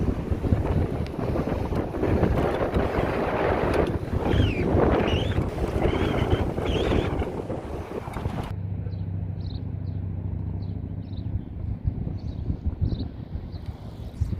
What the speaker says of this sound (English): Wind picked up significantly from this afternoon